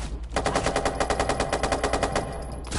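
Rapid submachine gun fire from the video game Watch Dogs 2, a long sustained burst of evenly spaced shots, loud and close, with no talking.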